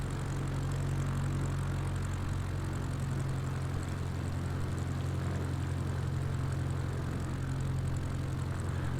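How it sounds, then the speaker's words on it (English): An X Cub light propeller airplane taxies toward general aviation parking, its engine droning steadily and loud close by, a constant low hum with a rough propeller buzz, no talk over it. "Taxiing to general aviation parking using taxiway Alpha Delta"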